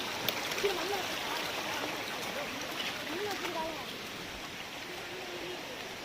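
A constant broadband rush of a mountain stream flowing, with a voice talking faintly over it, in the Sathuragiri hills of the Western Ghats.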